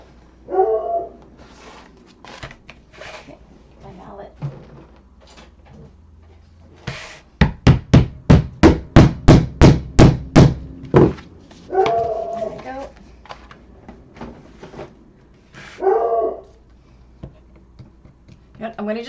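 A rescue dog barks in a rapid burst of about ten loud barks in a row, with a person talking before and after.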